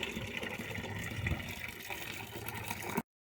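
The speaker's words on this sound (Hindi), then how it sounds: "अभी मैं पहले पानी में से निकाल लूँगी, फिर इन्हें सुखा के आऊँगी ऊपर।" Hand-washed clothes lifted out of a tub of water give a steady, continuous wet sloshing and splashing, fairly close, with no voices, before stopping abruptly.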